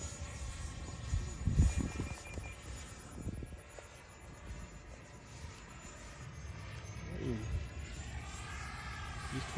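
A Freewing Eurofighter Typhoon 6S 90mm EDF RC jet whines steadily at a distance as it flies, a continuous airy drone under intermittent nearby talk.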